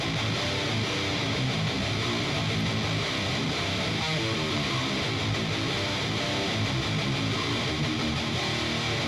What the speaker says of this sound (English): The guitar bus sounds like this.